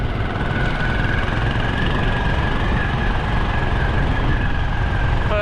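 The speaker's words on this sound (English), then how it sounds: "I've never been on a motorbike on the beach" A steady, rumbling motorbike engine runs continuously at a close, even level while riding on the sand of Clifton Beach, Karachi, with a constant low drone and no speech.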